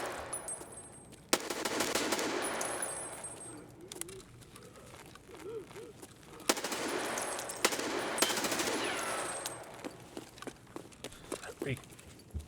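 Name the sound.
M4 rifle gunfire in video game Escape from Tarkov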